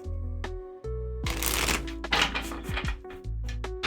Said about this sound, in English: Let's give them one more shuffle.